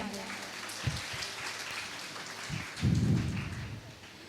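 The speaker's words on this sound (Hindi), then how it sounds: "एक बार जोरदार तालियां बजा दें।" Audience applause at a Matron's Day hospital event at Nazareth Hospital, Prayagraj: a dense crowd of clapping that swells in a loud burst near the end, with some talk mixed in.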